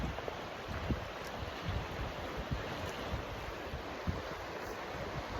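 A river swollen with direct snowmelt rushes beside a 30-year-old truck camper in heavy winds, a steady broadband wash of flowing water mixed with gusty wind buffeting, close and continuous.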